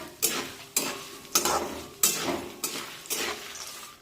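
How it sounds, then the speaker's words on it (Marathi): Dry coconut slices being stir-roasted on a low flame, a spatula scraping the pan in regular strokes about every half second over a soft sizzle, close and fairly quiet. "अर्धी वाटी सुक्या खोबऱ्याचे काप टाकूया आणि हे सुद्धा दोन ते तीन मिनिटे मंदाचेवर छानपैकी परतून घेऊया"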